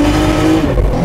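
A tuned Nissan Skyline GT-R R33 accelerates hard, its engine note loud and close, a raspy rising roar that holds strong for about a second.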